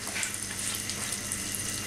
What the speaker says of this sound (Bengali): দুই পিঠি তেল ব্রাশ করে এখন সুন্দর বাদামি করে ভেজে নিব